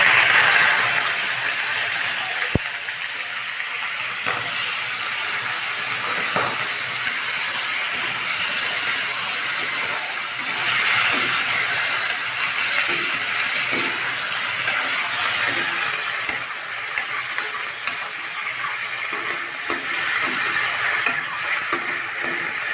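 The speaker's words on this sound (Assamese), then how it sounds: "এতিয়া আমি মাংসখিনি অলপকৈ ভাজি ল'ব লাগিব" Broiler chicken meat fries in hot oil in a wok, a continuous loud sizzle broken by scraping and clicking as the pieces are stirred, close up with no talking.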